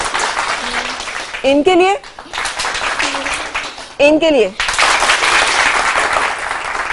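A studio audience on a morning talk show applauds in loud bursts to vote for a favourite recipe, the clapping broken by brief moments of a host speaking.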